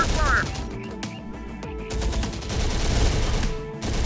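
Rapid gunfire strikes infantry in the real-time strategy game Terminator: Dark Fate - Defiance, sharp bursts and cracks scattered across a busy battle mix, with a voice briefly heard amid the shots.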